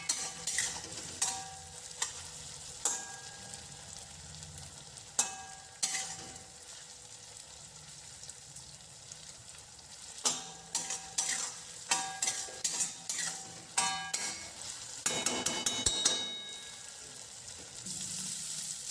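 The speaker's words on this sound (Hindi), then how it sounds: "साबूदाने को कढ़ाई में डाल करके मिक्स कर लेंगे।" Sabudana is stirred in a kadhai over a low to medium gas flame, with repeated scraping and clinking of a spoon against the pan over a faint sizzle, in bursts of quick strokes.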